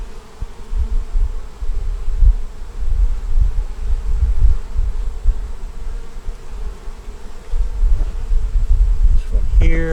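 Honey bees buzz steadily from an opened hive, a dense, continuous hum that stays loud throughout, with a few brief background knocks near the end.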